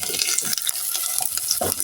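Onions sizzle steadily in a hot pan for chapati and smocha, with intermittent scraping stirs cutting through the continuous frying hiss, close and fairly loud, no voices.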